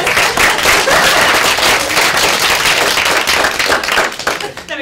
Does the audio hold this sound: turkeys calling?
no